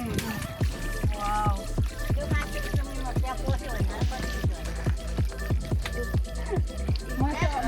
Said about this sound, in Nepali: त्यो अर्को बोतलमा अलिकता खाली भयो त भर्नु